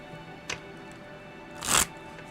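A Hanson Roberts tarot deck is shuffled, giving a brief soft card flick followed by a louder riffling burst of cards, close and alone in a quiet room.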